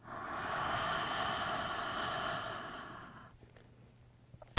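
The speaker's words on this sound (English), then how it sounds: "Inhale through the nose. Exhale through the mouth." A long, steady exhale through the mouth during a yoga breathing exercise, breathy and close, fading after about three seconds into near silence with a few soft clicks.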